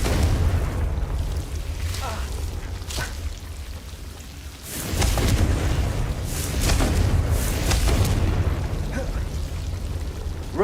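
Blasting-spell explosions in the Hogwarts Legacy game, booming bursts with crackling debris over a steady low rumble, a stronger blast near the middle and several sharp pops after.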